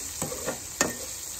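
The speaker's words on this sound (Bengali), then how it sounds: "দিয়ে আমি ভেজে নেব।" Gandhara fish seasoned with sugar and salt fries in oil, a faint soft sizzle broken by two or three brief scraping stirs, with no voices.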